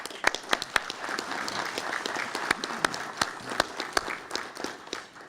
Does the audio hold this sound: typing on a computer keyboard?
no